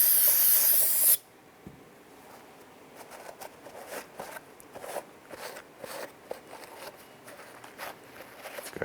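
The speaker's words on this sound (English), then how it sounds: "Go ahead and give that a spray down with some solvent." Solvent is sprayed onto a Jeep Grand Cherokee engine's exhaust manifold mounting surface to clean off old gasket material: a loud, close hissing burst that cuts off abruptly, followed by quieter scattered handling noises.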